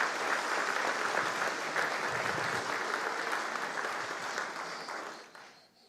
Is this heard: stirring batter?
no